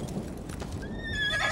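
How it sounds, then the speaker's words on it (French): A horse in The Elder Scrolls Online gives a clear whinny that rises toward the end of a short burst, over a busy background of game sounds, with no talk. "on passe donc au chargeur Yokudan gris pour moi, et le cheval à crinière blanche pour Braise"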